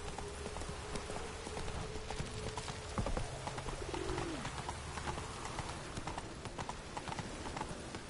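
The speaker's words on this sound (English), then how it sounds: "And there's my Quixie horse" Horse hooves clip-clop at a steady walking pace in The Witcher 3, with pigeons cooing softly in the background; no one speaks.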